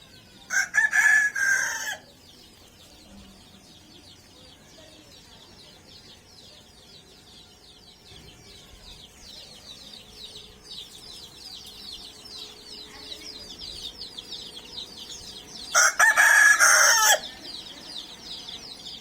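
A rooster crows loudly twice, near, separated by a long stretch of steady chirping of many chicks and birds in the background.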